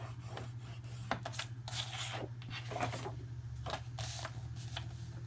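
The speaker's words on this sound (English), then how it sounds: "I'm going to score at 3/4 of an inch, turn it, and score at 3/4 of an inch again" Cardstock is scored for a craft box with a tool dragged along a scoring board, making repeated soft scraping strokes that come in short bursts over a low steady hum, close and fairly quiet.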